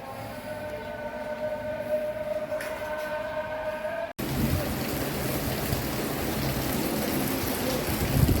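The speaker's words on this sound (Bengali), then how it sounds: "টিপ টিপ বৃষ্টি পড়ছে" Light drizzle in a light breeze. After a brief tonal hum and a sudden cut, rain fills in as a dense, even hiss that holds steady to the end.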